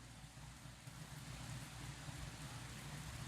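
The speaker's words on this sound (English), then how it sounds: "do you guys hear the rain?" Steady rain pouring outside, a continuous dense hiss of falling water with a low rumble underneath, even and unbroken throughout, heard alone without talk.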